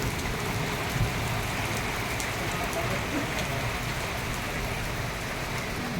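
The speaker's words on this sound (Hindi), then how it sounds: "ज़बरदस्त आ गई है बारिश" Sudden heavy rain pouring down outside a Punjab National Bank branch, a dense, steady hiss of water hitting the ground and surfaces nearby, continuous and even throughout.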